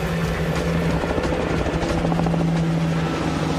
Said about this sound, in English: All right, helicopters are coming in.